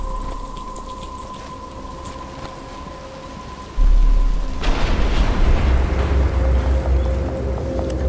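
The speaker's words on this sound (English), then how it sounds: "But it's starting to rain." Rain and thunder from Batman: Arkham Asylum: a steady rain hiss under a low tonal hum, then a loud rumble of thunder breaks in and the downpour grows heavier and continues.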